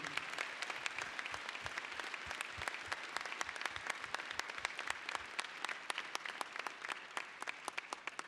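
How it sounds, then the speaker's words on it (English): A large crowd at a university winter commencement applauds steadily, a dense wash of clapping that holds at an even level for several seconds, with a few sharper claps standing out. "Please give them a round of applause and say thank you."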